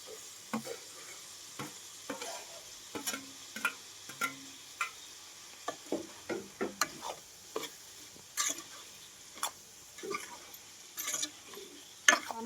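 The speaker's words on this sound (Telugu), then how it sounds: "ఉల్లిపాయలు పచ్చిమిరకాయలు టమాటా ముక్కలు వేసుకుంటున్నాము" Onions, green chillies and tomato pieces frying in a pan while being stirred, a faint steady sizzle punctuated by regular sharp clicks and scrapes of the spoon against the pan, close by, no voices.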